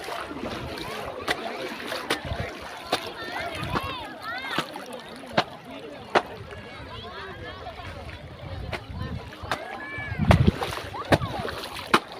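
Scattered splashes and water sloshing as people bathe in the Vaippar river below a dam at Sattur, with voices chattering and shouting nearby throughout.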